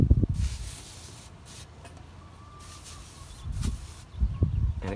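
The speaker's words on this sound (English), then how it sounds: "So I just spray this down a couple times a day with my" A pressurized hand sprayer misting water onto a wool-wrapped evaporative refrigerator outdoors on a hot day, soft steady hissing bursts between a few louder handling bumps near the start and end.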